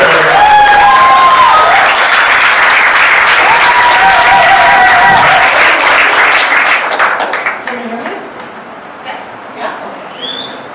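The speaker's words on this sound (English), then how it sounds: "Please keep that applause going." A comedy club audience in Kingston applauds loudly and continuously, dense clapping with whoops and cheers mixed in, then fades toward the end while a voice speaks over the thinning claps.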